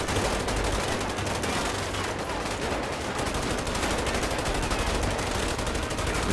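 Dense, continuous gunfire in GTA 5 during a SWAT police shootout, rapid overlapping shots blending into a loud, steady wall of automatic fire throughout.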